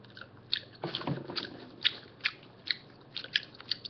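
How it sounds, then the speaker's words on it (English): Bean Boozled jelly beans being chewed close to the mouth, a series of soft, wet crunching bites in an irregular rhythm, with small clicks between them and no talking. "I'm chewing with my mouth now"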